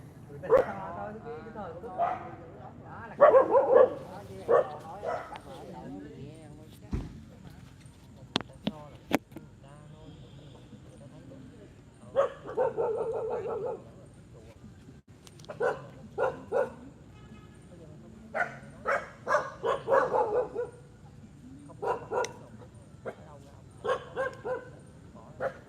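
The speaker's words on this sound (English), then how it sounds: "The dogs are barking, Sean." Several dogs bark in short, irregular bursts, some near and some farther off, spread across the clip alongside people talking.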